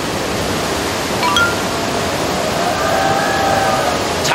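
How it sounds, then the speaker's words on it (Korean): A four-tiered waterfall roars with a loud, steady rush of falling water that fills the whole moment, with faint higher tones drifting over the constant noise. "작은 폭포가 위에서 하나가 만들어졌고 그게 또 줄기로 내려와서 4단 폭포, 4단 폭포."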